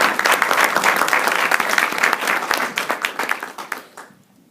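An audience at a male empowerment brunch applauds Tyrone and Kwame, a dense burst of many hands clapping close and loud, thinning into scattered claps before falling quiet.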